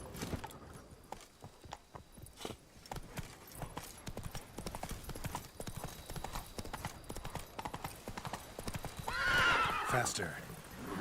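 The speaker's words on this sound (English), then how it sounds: "We just put Roach out here." Horse galloping with rapid clip-clop hoofbeats in the Witcher 3 video game, followed by a loud whinny near the end, heard over game ambience with a voice talking.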